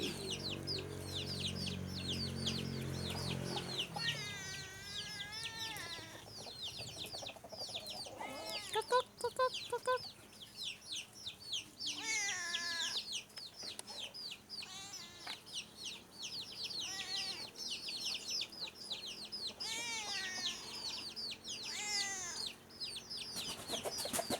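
Black chickens on a Thai farm, a hen with her chicks, cluck and cheep in repeated short bursts, close and fairly quiet, with thin high peeping from the chicks over soft background noise.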